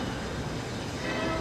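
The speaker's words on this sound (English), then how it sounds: "and there's the train. A choo-choo." A train rolling past on a Tennessee road trip near Chattanooga, a steady broadband rumble and rattle of railcars that fills the short moment without talk.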